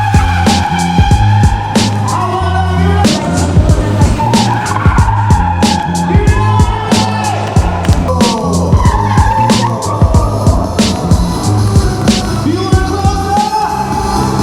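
Russ Swift performs car stunts at the Singapore Motorshow, tires squealing and skidding loudly in repeated bursts over a revving engine, heard close from inside the car.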